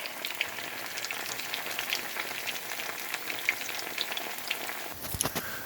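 Potatoes frying in hot oil in a pot, like French fries, giving a steady dense sizzle with crackling pops throughout and a brief stronger burst near the end, with no voices.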